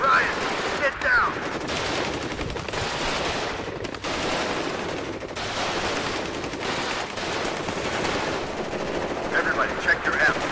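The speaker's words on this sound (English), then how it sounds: "Firing when in range, sir." Dense machine gun and rifle fire from the WARNO battlefield video game, sustained bursts of gunfire running nonstop through the whole stretch with short gaps and flurries of overlapping shots.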